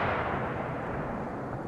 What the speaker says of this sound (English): Bombing a village with a rocket launcher.